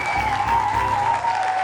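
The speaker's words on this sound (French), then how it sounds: "on l'applaudit, s'il vous plaît" Steady applause from an audience, a dense wash of clapping at moderate volume with a faint tone running underneath.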